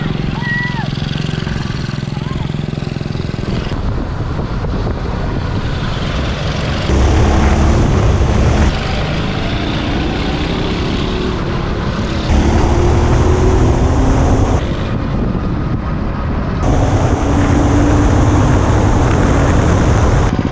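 A Super 73 mini bike fitted with a 212cc gasoline engine rides nearby, its small motor droning and surging in waves as the throttle opens and closes, with people talking over it.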